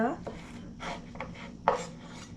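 A knife cuts vegetables on a board for Kolkata vegetable chops, making a few close, separate scraping chops at uneven intervals over a quiet background, with no talk.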